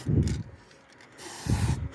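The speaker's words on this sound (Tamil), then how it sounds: "இது மாதிரி ஸ்ப்ரே பெயிண்ட் அடித்து வச்சுக்கிட்டோம்னா இங்கே" A spray paint can coats a motorcycle silencer with short bursts of hissing spray, set between low dull knocks and handling noise. The spray is close and moderately loud.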